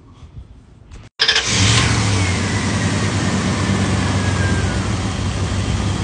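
A truck engine cranks briefly, catches and roars to life, then holds a loud, steady rev near the listener for several seconds after a short pause.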